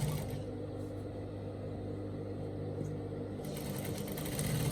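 A sewing machine runs steadily at close range, stitching a fabric hem with a half-inch seam allowance on a basque peplum top, its even whir holding for several seconds before easing.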